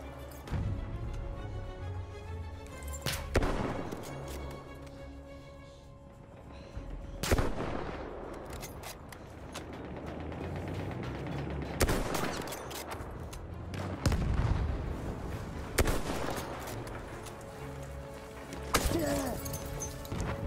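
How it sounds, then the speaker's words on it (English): Artillery barrage and gunfire in the Battlefield 1 video game: repeated sharp, loud blasts every few seconds over rumbling distant shelling and scattered shots, with occasional voices. "The enemies are being halted by our artillery barrage."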